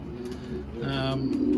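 Pigeons cooing in a loft coop, soft low rolling coos that swell louder in the second half, close by, over a murmuring background.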